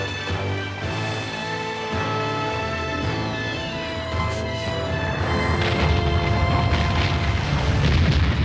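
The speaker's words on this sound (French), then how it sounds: "La poudre ne va pas tarder à exploser!" Cartoon gunpowder blasts out as a deep, booming explosion, with layered rumbling bursts that build and grow louder toward the end, heard alone without speech.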